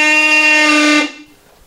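A Seadog Bulldog marine horn, a loud 123-decibel above-deck boat horn, gives one steady, blaring blast of about a second with a rich, buzzy tone, then cuts off abruptly into near silence.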